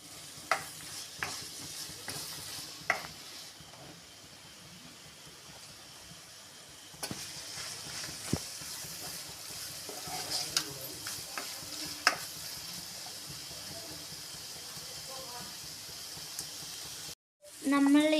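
Clams roasting in coconut oil in a pan, with a steady, close sizzle and repeated scraping and clinking stirs throughout.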